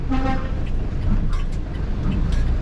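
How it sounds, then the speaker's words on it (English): A bus horn toots amid steady road traffic noise, with a couple of short honks standing out against the continuous rumble. "The bus driver who beeped"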